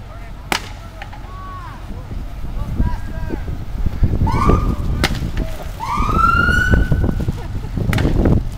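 Sirens wail with rising and falling tones over loud, busy background noise at a balloon race, with voices talking and shouting throughout.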